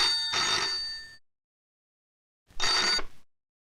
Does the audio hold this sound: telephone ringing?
yes